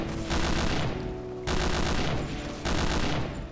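Sustained automatic gunfire in Hidden & Dangerous 2, loud and dense, coming in long bursts with brief drops between them and no talk.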